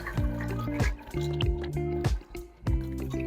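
Water splashing as a face is rinsed during a skincare routine, several quick splashes and trickles in bursts close to the sink, no talking.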